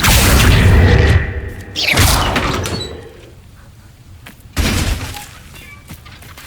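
Bombarda and Accio spells cast in the video game Hogwarts Legacy, giving loud whooshing blasts with crashing, shattering impacts, two bursts separated by a quieter gap, close and dominant.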